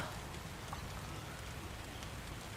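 Steady rain, heavier than a drizzle, falls across an outdoor lawn bowls green as a dense, even hiss of drops, faint and continuous with no voices.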